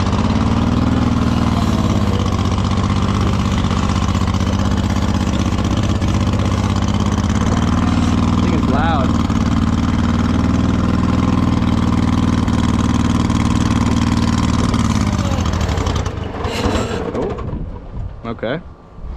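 A loud, steady tractor engine idles with a low, even rumble for most of the clip, then drops off near the end amid a few clunks and shifts.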